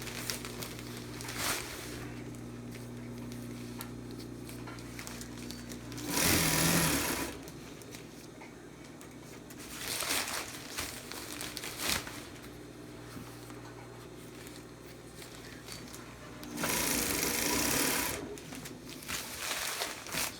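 A sewing machine stitches a 5x8 tarp with heavy nylon thread at a long stitch length, running in steady bursts of a few seconds with quieter pauses between them, with no talking.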